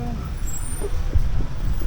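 Heavy vehicles passing along a busy market road in Tayod, with low rumbling engines and a brief air-brake hiss, steady and fairly close, with faint voices in the background.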